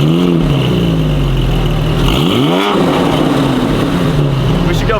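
Porsche 997 Carrera S flat-six engine fitted with a new Fabspeed exhaust, idling with a steady low drone and briefly blipped to a rising rev around the middle, heard close and loud with a faint voice underneath.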